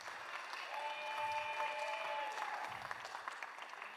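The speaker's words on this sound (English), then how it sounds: "Can we give all of our acts just a huge round of applause?" Audience applause for the evening's performers at a holiday show, steady clapping throughout with a faint tonal hum or music drifting underneath.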